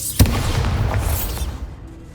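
A sharp magical blast from the Bombarda explosion spell in Hogwarts Legacy, one sudden boom followed by a rumbling, crackling tail that fades over about a second and a half amid game ambience.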